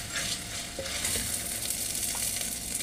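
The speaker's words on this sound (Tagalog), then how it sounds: "Igisa muna natin ang ating hotdog." Hotdog sautéing in a pan for Filipino spaghetti, a steady low sizzle with occasional utensil stirring clinks, close and continuous with no talking.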